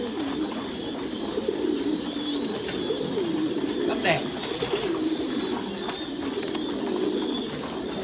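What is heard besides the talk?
Thai Titan pigeons cooing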